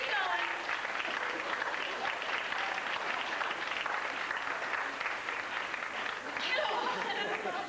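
Banquet audience at a youth optimist awards event keeps clapping in a sustained, even roar of many hands, with scattered chatter and a few chuckles mixed in and a brief swell near the end.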